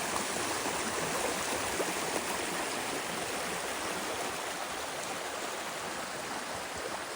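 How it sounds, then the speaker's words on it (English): Creek water rushing steadily along a lakeside hiking trail, a continuous, even wash of flowing water heard alone. "This creek here has salmon come up it"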